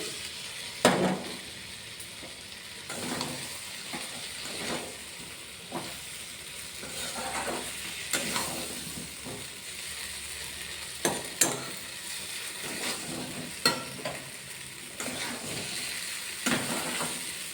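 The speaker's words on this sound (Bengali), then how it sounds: "আলুটাকে মশলার সাথে ভালো করে কষিয়ে নেব।" Potatoes sautéing in a spice masala in a pan, a continuous low sizzle with repeated spatula stirs and scrapes at irregular intervals, no one talking.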